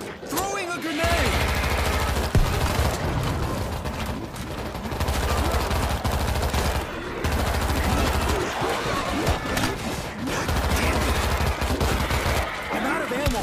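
Rapid bursts of gunfire and a grenade blast ring out in the zombie shooter World War Z, dense and loud nearly throughout with short gaps, while player voices call out over the combat.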